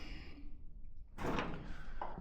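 A van door on a fire-damaged Mk1 Ford Escort van, a converted fairground bumper car van, is shut with a single close thunk at mid-clip, followed by a brief rattle and then quiet.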